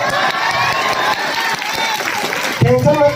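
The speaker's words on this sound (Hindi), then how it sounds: "ताली वाली बजाए करो" A crowd at a New Year special village night show in Achhola claps and cheers, a loud, busy mix of hands and voices with talk running over it and a sharper burst near the end.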